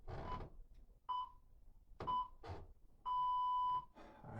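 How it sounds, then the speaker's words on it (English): Three electronic timer beeps during a leg-focused workout, two short tones followed by a longer final tone, spaced about a second apart with faint movement noise in between. "Listen out for those 3 beeps."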